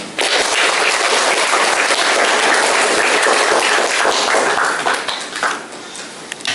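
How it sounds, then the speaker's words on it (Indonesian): Loud, sustained applause from a school audience at a student council election event, honoring three candidates after a question session; dense clapping fills the whole stretch and thins slightly near the end. "Beri tepuk tangan yang meriah kepada ketiga kandidat yang dengan baik menjawab semua pertanyaan."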